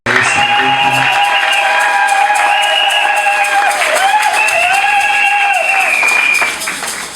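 A church congregation applauds and cheers two newly consecrated ministers at a consecration service, with dense sustained clapping under loud, rising and falling cheers that fade slightly at the end.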